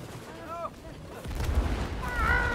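A booming explosion from the It Takes Two video game, with low rumbling blasts that build up under game sounds and a voice nearby. It comes across as a heavy, sustained detonation roar.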